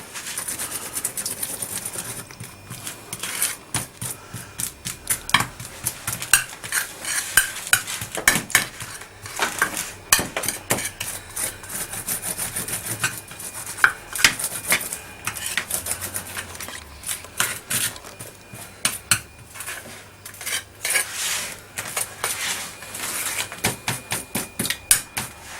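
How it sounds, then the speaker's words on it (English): A tablespoon presses and compacts a baking mixture, producing a steady run of close, sharp metallic clinks and scrapes against a dish, densely repeated with no talking. "Then finally, I get a tablespoon and compress it."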